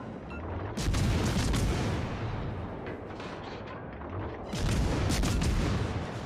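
Naval gun salvos from a warship in World of Warships Legends, the Brisbane, boom in two heavy rolling volleys, loud and dense, each lingering into a rumbling fade.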